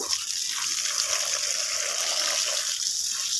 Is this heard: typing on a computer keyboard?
no